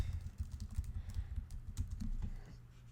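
Rapid typing on a computer keyboard while building a WordPress site with the Divi theme, a steady run of close, soft key clicks with no voices.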